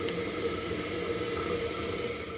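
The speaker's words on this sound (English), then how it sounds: "I got the water on at the tank. I'm checking for leaks" Toilet tank refilling with water from the supply line after a repair, a steady, continuous rushing hiss of running water at close range, unbroken for the whole stretch with no talking.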